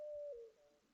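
A dove in a dovecote from the farming video game Farming Simulator 22 gives a single soft, low coo with a slight downward step in pitch, faint against near silence.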